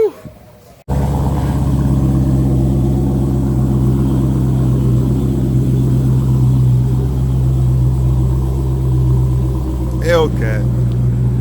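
A 2015 Dodge Challenger Hellcat engine rumbles steadily and loudly up close after a brief quiet start, a deep continuous drone holding throughout, with a short voice exclamation near the end.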